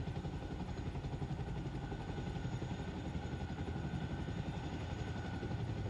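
A helicopter in the military video game Arma Reforger drones with a steady rotor chop and engine rumble. It sounds moderately distant and stays constant throughout, with no voices.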